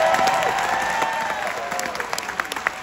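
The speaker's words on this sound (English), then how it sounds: "give Mirko a big round of applause" Applause with a few cheers from a casino concert crowd for the pianist at a show, with sustained musical tones ringing underneath as the clapping gradually fades.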